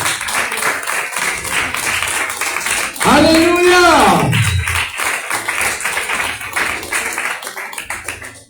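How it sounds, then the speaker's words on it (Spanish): A church congregation applauds in a continuous, dense wash of clapping, with a voice shouting out loudly partway through and talk continuing over the applause. "Denle un aplauso al Señor, por favor"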